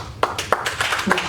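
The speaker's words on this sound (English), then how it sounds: "You can't hear over the clapping." Scattered hand clapping breaks out among the crowd at a school board meeting, a handful of sharp, uneven claps over about a second with background voices in the room.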